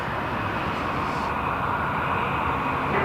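Airplane at Toronto Pearson Airport, a loud steady broadband engine roar that holds evenly throughout with no break, heard from fairly close in the open.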